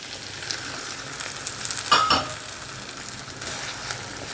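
Two eggs go into a hot pan and fry with a steady close sizzle, which flares briefly louder partway through before settling back to an even hiss; nobody speaks.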